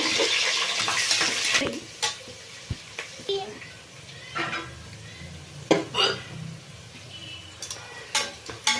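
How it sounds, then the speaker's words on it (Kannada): Onions with green chillies fry in a pan for a pulao, a soft sizzle under scattered stirring and scraping clatters, with someone talking over it. "ಹಸಿಮೆಣಸಿನ್ಕಾಯಿ ಈಗ ಈರುಳ್ಳಿ ಚೆಂದ ಫ್ರೈ ಆಗಲಿ"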